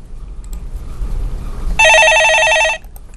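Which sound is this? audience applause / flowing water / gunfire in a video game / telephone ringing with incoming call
telephone ringing with incoming call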